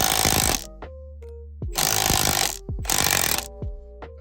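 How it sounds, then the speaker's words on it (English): Impact wrench on an extension hammering out a 10mm hex bolt during a steering wheel install on a 10th-gen Honda Civic Type R FK8, three loud rattling bursts separated by short pauses, with clicks and clanks between them. "So I have this on an extension on my impact wrench."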